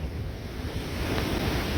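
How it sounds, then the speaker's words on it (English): Steady wind rushes across an open shoreline at Fort Walton Beach on a cloudy day, blending with the broad hiss of surf washing in nearby, continuous and fairly even. "It's windy and cloudy"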